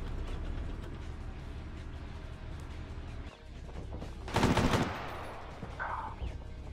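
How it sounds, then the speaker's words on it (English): Enemy gunfire rattles in a military video game, rapid bursts of shots and mechanical clatter at moderate distance, with a louder burst of fire near the end. "They're shooting at us."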